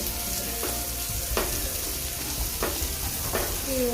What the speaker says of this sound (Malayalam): സവാള പൊരിച്ചില്ലേ